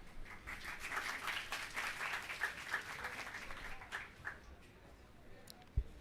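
Students applaud after a lecture presentation at an institute of information technology, a steady patter of many hands clapping in a room that thins out and fades after a few seconds.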